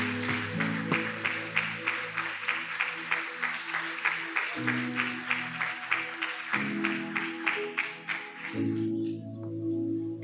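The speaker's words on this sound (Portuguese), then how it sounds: "eu peço que vocês aplaudem o Senhor com muita força." A church congregation claps steadily through a Tuesday testimony service, the rhythmic applause running under sustained music chords that shift every few seconds before the clapping fades near the end.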